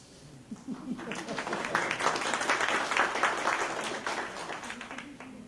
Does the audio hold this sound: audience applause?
yes